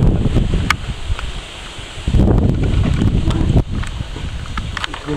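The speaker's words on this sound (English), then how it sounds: "So it's getting a bit windy." Gusty wind buffets the microphone in loud rumbling bursts, easing briefly before surging again, with faint rustling behind it.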